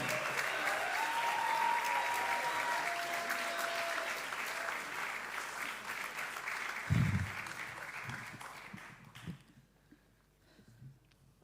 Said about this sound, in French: On les applaudit, on les encourage jusqu'à ce qu'ils soient derrière le micro.